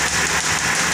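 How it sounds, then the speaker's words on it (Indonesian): Toyota Avanza engine running warm with its extra cooling fan switched on, a steady close idle hum blended with a broad whooshing fan rush, brief and continuous. "ini extra fan sudah nyala"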